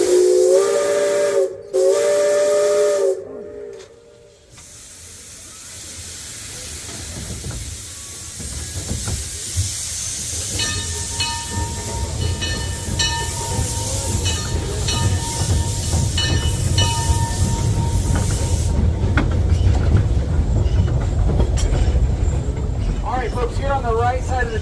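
A Cripple Creek narrow gauge steam train sounds its whistle in loud sustained blasts, then the locomotive chugs and hisses steadily with rumbling wheels as it gets underway, with a few voices early on.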